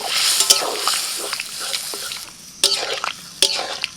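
Boiled gourd is stirred into a mustard-poppy paste in a pan, giving soft scraping and a faint sizzle. A few sharp clinks of the spoon against the pan break through at intervals.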